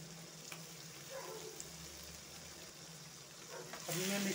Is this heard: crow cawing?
no